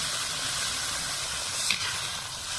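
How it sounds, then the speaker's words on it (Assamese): Hot water poured into a pan of fish masala frying with tomato sends up a loud, continuous steam hiss that stays even for the whole moment, with a brief flare near the middle. "এতিয়া ইয়াত অকণমান গৰম পানী দি দিছে"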